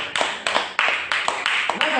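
A church congregation clapping during a sermon, each clap landing crisply in a loose, irregular rhythm of about eight claps, close and fairly loud with a short reverberant tail.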